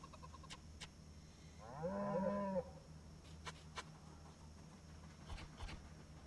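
A single cow moos once in Project Zomboid, a drawn-out low call lasting under a second amid quiet game ambience with faint clicks, heard alone with no talk.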